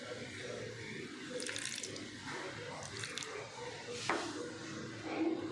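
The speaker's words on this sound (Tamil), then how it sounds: "தண்ணி கொஞ்சோண்டு ஊற்றிப்போம்." Water trickles and splashes briefly into a container in a few short pours, fairly close and quiet.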